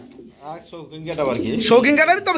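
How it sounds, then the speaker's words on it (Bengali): A pair of black King pigeons with eggs, kept on a pigeon farm, coo under loud nearby talk that dominates the sound. "ডিম সহকারে একজোরে ব্ল্যাক দেখতেছি ভাই এটা কি কিং কবুতর"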